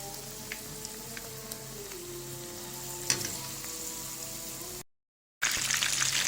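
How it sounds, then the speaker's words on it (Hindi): Marinated meat sizzles steadily in hot ghee for a chicken zinger burger, a close, even crackle with a few sharper pops, cut by a short moment of silence before the frying resumes. "अब घी गर्म हो गया। इसके अंदर अब हमने इस तरह से मैरिनेट किया हुआ गोश्त ऐड करना है इस तरह से।"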